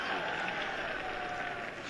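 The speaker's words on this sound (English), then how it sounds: "The fans really applauding" Wrestling crowd at a hardcore barbed-wire match in Japan applauding and cheering, a dense, steady wash of clapping and crowd noise filling the space throughout.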